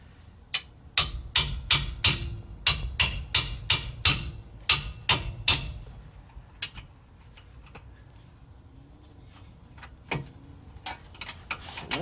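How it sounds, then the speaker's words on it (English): 18mm wrench working stubborn caliper bracket bolts on a Jeep Wrangler JK, a quick run of sharp metallic clicks and ratchet ticks, then sparser clicks and faint rubbing, close and with no talk. "we're going to take off the two mounting bolts here that hold this caliper bracket on. And this is an 18mm wrench."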